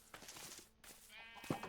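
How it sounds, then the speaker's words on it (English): Minecraft sheep bleat from a pen of farm animals, two short wavering bleats spaced apart, moderately near and faint over a busy background of game sounds. "Baby sheep will follow their parents"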